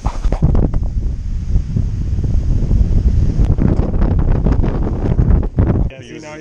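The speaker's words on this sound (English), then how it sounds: "the spot we're at is not really kiteable, but it's super duper windy" Strong, gusty beach wind roars and buffets the microphone almost continuously, low and heavy, dropping off abruptly near the end.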